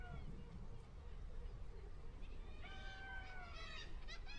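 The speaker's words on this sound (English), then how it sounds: "What's that, cat? I hear you." A house cat meows faintly in a few short rising and falling calls near the end, over a low indoor background hum.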